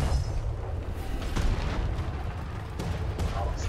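Ship cannons fire in the naval game Atlas, heavy booming shots landing a few at a time over a low rumbling bed of wind and sea, loud and close throughout.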